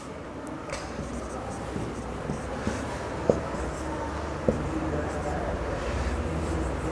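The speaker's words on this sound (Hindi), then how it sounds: "चलो लिख देते हैं महत्व हम।" Pen writing by hand on a board or paper during a biology lesson, faint scratching strokes with a few sharp taps, set against a steady background hum.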